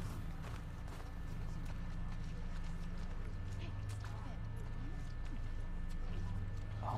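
Horse hooves clip-clop steadily under a low rumbling hum in The Last of Us Part II, with a voice speaking over the scene.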